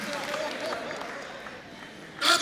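An audience at a comedy show applauds, the clapping fairly steady and moderately loud before it eases off, with a brief louder burst of sound at the very end.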